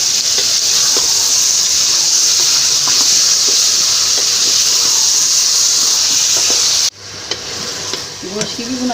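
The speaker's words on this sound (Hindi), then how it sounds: "गोश्त की भी हम अच्छी तरीके से भुनाई कर लेंगे।" Mutton frying for a green masala karahi, a loud, steady, close sizzle and hiss that runs without pause, then abruptly drops to quieter sizzling with faint stirring clatter near the end.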